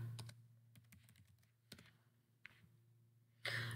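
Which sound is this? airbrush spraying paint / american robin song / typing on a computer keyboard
typing on a computer keyboard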